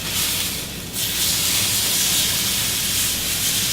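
Pork tenderloin browning in a hot pan gives off a loud, steady sizzle, a dense continuous hiss with a brief dip near the start, close and uninterrupted with no talking.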